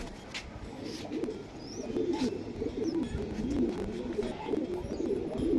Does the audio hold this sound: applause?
no